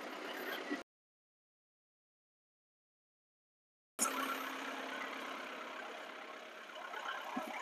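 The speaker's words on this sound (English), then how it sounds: "get the tractor fired up" A tractor engine idles near a sawmill site, a steady mid-pitched rumble that stops for a few seconds of silence and then resumes at an even level, with no talking.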